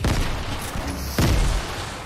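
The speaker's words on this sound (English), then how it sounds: "They got grenade launchers, careful." Grenade launcher fire in the Fortnite video game, a dense continuous burst of explosive booms and gunfire at close range with a sharper blast near the middle, heard alone without talk.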